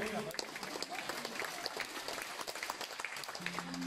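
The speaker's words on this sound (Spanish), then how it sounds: "De igual manera, un fuerte y caluroso aplauso para Genaro García Gregorio." Guests at a quinceañera party in a Oaxaca mountain village clap steadily, a faint, busy patter of applause with scattered louder claps and a faint tone near the end.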